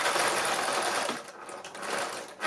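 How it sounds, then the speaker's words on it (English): A sewing machine runs steadily while doing free machine embroidery on lace, a fast, loud, continuous mechanical whir with a brief slowdown near the middle, heard close and alone. "And because it's free machine embroidery,"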